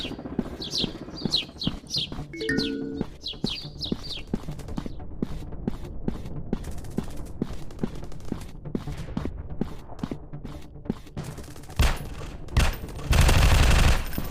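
Rapid bursts of gunfire from a PUBG-style first-person shooter video game. Sharp repeated shots crackle steadily through most of the stretch, with chirpy game effects early on and a louder, denser burst near the end.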